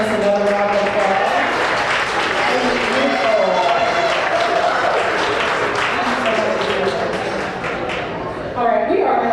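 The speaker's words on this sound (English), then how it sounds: "Can we give our wonderful musical accompanist another round of applause?" Sustained applause from an audience at a National Council of Negro Women awards luncheon in Montclair, NJ, honoring the musical accompanist. Dense, steady clapping fills the room, mixed with crowd voices, easing briefly near the end before swelling again.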